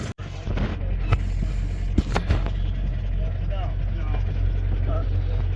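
A car engine idling loud and close with a steady low rumble, rising in a few brief revs while people talk nearby.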